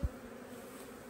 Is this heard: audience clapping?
no